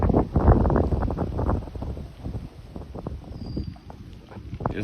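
Strong wind gusts buffet the microphone near an EF2 tornado outside New Richmond, Wisconsin, a heavy, rough roar that surges in the first seconds and then eases into a steadier, lower rush.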